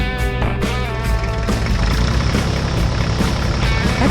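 A small Sorage tractor engine running inside a large barn, a loud steady low rumble with a rough idling pulse, over a brief tonal hum at the start.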